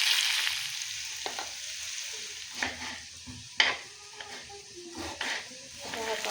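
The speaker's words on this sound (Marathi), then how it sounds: "आता कांदा फ्राय झाला आहे" Onion fries in a pan with a steady sizzle, interrupted by repeated stirring scrapes of a spoon against the pan at close range.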